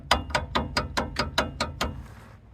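A ratchet wrench loosens the cardan shaft bolts on a Land Rover Defender during a roadside repair, giving about nine sharp, evenly spaced clicks close up before the sound fades, with no talking.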